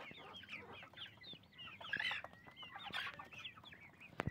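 Chickens and roosters on a farm flock of about two dozen cocks, clucking and squawking in overlapping calls at moderate distance, rising in a few louder bursts, with no talking.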